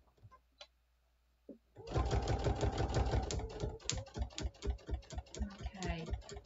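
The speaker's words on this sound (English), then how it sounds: "So I'm just sewing to the edge of my line." A home sewing machine stitches steadily along a marked line while making a mini iron caddy, starting after a near-silent lead-in and running as a rapid, close, loud mechanical rattle to the end, with a voice briefly behind it.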